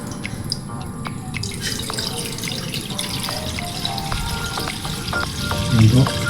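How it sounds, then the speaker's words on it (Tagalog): Water hisses and sizzles into a hot pan while tilapia sinigang is being cooked, a close, loud frying crackle with drips and light stirring that builds toward the end. "Maglagay lang po tayo ng tamang dami ng tubig dito sa ating kawali"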